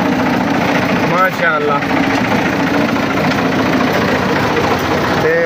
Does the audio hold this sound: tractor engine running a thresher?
yes